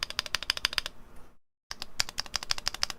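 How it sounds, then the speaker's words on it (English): Keys on a Neo Ergo mechanical keyboard clatter in quick, close bursts of typing, with a slight rattle from the stabilizers, broken by a short silent pause before the keystrokes resume. "There's a weird little rattle that's happening."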